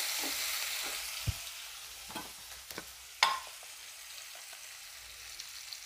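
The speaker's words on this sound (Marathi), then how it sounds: "हे लसूण आणि हिरवी मिरची आपण टेचून घेतली होती ती टाकूयात. छान परतून घ्यायचं आहे." Crushed garlic and green chilli sauté in a pan over a low flame for a radish-leaf bhaji, giving a soft steady sizzle with a few sharp spatula scrapes and clicks as they are stirred.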